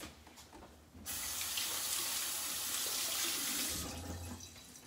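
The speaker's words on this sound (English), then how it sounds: "wash my hands" Tap water runs steadily into a sink while hands are washed, starting abruptly after a second of quieter room sound and then easing off near the end, a soft, even hiss heard close with no talk.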